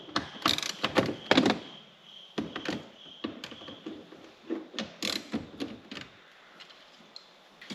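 Ratchet loosening the four 10mm bolts that hold the head unit in a 2006-2009 Lexus IS dashboard, giving close, irregular bursts of clicking and mechanical thunks that come and go with short pauses.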